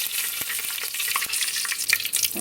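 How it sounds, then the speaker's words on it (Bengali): Close, steady sizzling of bay leaves and whole garam masala frying in hot white oil, with small pops and crackles throughout and no voices. "সাদা তেল গরম হয়ে গেছে এখন তেজপাতা আর গোটা গরম মশলা দিয়ে দিচ্ছি"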